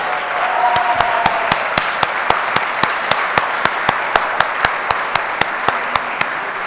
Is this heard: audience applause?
yes